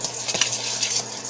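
Dry coating ingredients with baking powder being stirred in a bowl for sweet and sour pork, a steady close scraping and rustling with a few light clinks against the side.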